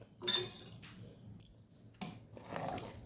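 Chapati being cut into small pieces on a board for a one-pot bele soppina kadubu dish, heard as a few short scraping, cutting strokes close by, with quiet pauses between them.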